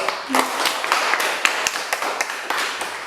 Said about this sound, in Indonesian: Ya, tepuk tangan Bukyo.